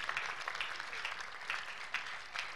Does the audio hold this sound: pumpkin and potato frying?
no